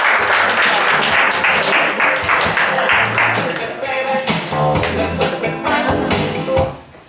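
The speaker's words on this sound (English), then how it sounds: "Let's give Dr. West a round of applause" A crowd applauds steadily for several seconds, dense clapping that tapers off near the end, with some voices mixed in.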